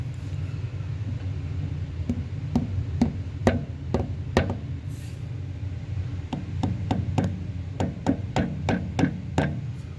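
Light hammer taps on an engine boring bar setup during a 1957 Chevy 283 and 350 block machining job: a series of sharp knocks, sparse at first then in a quicker run, over a steady low shop rumble.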